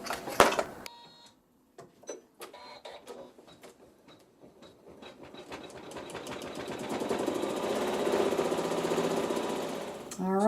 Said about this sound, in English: we're going to place thread B in the needle only, and it's going to sew a satin cover stitch